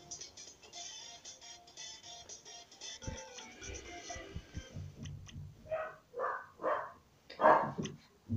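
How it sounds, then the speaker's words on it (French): Dog barking nearby in a room, several sharp barks in quick succession near the end, after a stretch of faint clicking and background sounds. "Bien évidemment, vous entendez mon chien"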